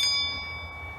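A single bright bell ding rings out at the start and fades into a sustained shimmering ring, heard alone and fairly loud in a garage setting.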